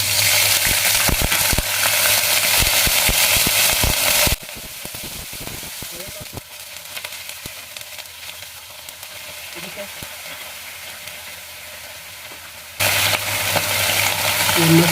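Golden garlic frying in a pan hisses loudly, then vinegar goes in and the sizzle drops to a quieter crackle for several seconds before flaring up strongly again, with clatters of stirring.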